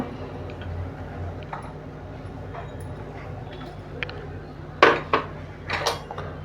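Cabbage and onion going into a large plate, with quiet background rustle and then a few sharp clinks and clatters near the end.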